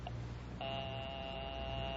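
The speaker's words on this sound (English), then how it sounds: "I will ring the service department." Telephone dialing tones on an old-time radio drama phone line: a faint short beep followed by a steady two-tone signal holding to the end, quiet and without talk.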